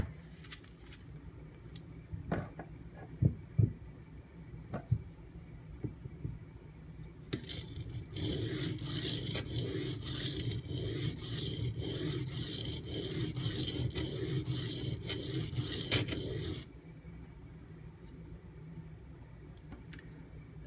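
A knife blade scraped back and forth on a Bull Thistle whetstone, first a few light taps and clicks, then about nine seconds of steady rhythmic rasping strokes, close and fairly loud, before it stops.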